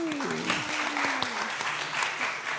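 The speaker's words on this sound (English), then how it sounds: "Let's have a round of applause." A conference audience at a DevFest Cloud main session claps briefly to welcome a workshop speaker, a soft, scattered round of applause with a voice and some murmuring mixed in.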